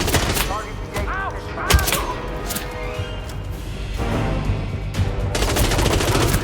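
Gunfire in Hitman, a loud string of sharp repeated shots with ringing metallic tones and clattering impacts, continuing steadily throughout with a dense burst near the end.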